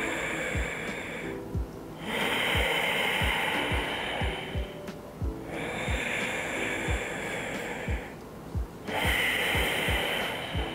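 Noisy deep breathing exercise with rib expansion, slow loud inhales and exhales alternating in a regular rhythm, close to the microphone, with no talking.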